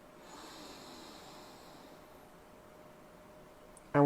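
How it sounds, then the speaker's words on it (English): A person draws in a deep, slow breath through the nose and then holds it, leaving a faint airy hiss that fades to near silence before a sudden louder sound at the very end. "And I want you to breathe in again."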